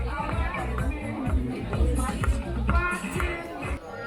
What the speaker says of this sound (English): So now the crowd has increased to the point you can hardly hear that music back there.